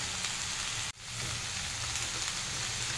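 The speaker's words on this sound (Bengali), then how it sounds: "জল দিয়ে দিচ্ছি আমি, বেশ খানিকটা জল লাগবে, যেহেতু আমার সবজিগুলো সেদ্ধ হবে" Water pours into a pan of vegetables being cooked for Bengali shukto, a steady hissing, rain-like sizzle that briefly drops out near the start, then continues evenly and fairly quietly.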